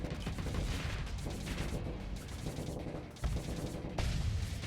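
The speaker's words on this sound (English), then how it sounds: "We're just using our torpedoes to overload their shields at this point." Torpedoes strike and overload ship shields during a Starsector space battle, a dense rumble of overlapping booms and crackling impacts with steady loud fire and a few sharper hits throughout.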